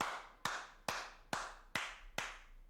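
Six sharp, evenly spaced hand claps ring out close and alone at a steady pace, each with a short decaying tail.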